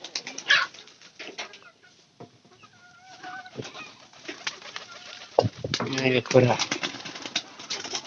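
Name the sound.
pigeons cooing and flapping wings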